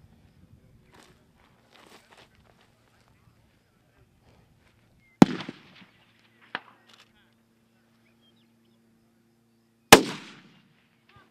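Rifle shots during long range tactical shooting, two sharp, loud cracks several seconds apart with a fainter report between them, set against a quiet outdoor background with faint voices.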